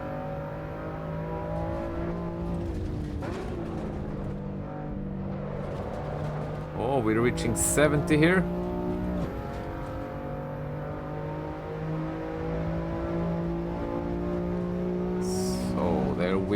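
A pack of AI race cars in the Assetto Corsa Evo game roars around the track, steady engine drones shifting pitch with gear changes, while someone talks briefly over the continuous racing noise.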